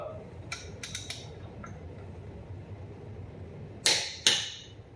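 A Vevor digital torque wrench on a car wheel gives two sharp, close clicks in quick succession near the end, after a few fainter ticks and handling noises over a quiet background.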